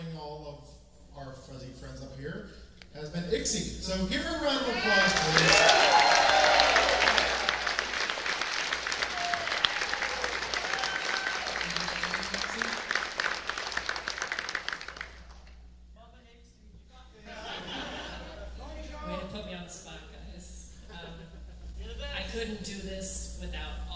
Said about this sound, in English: So give her a round of applause, please.